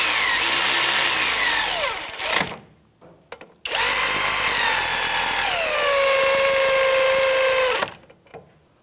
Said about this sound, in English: Now I'm going to take a 14 millimeter socket and my air ratchet and just bottom them out before I torque them